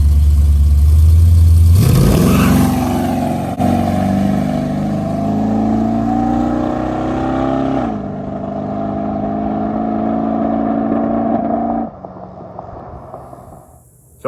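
A drag car engine, converted from a show car, revs just off idle before launch at a track, loud and close: a deep idle swells into a sustained rising drone, steps up again, then cuts back sharply.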